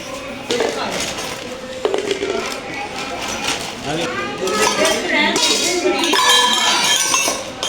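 Metal pots, pans and utensils clank and clatter as they are pulled out of storage in a home, with irregular clinks and scrapes under people talking.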